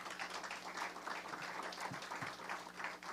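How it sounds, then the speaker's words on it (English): A round of applause from the audience at a neighborhood development project opening in Detroit, steady dense clapping with no gaps, moderately loud throughout. "Let's give them a round of applause"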